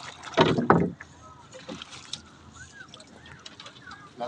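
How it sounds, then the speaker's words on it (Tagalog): An oar is worked in the water to ease a small fishing boat along, with a few close splashing strokes near the start and then light lapping and wind on open water, and someone speaks briefly. "Sagwan-sagwan lang ng kunti-kunti."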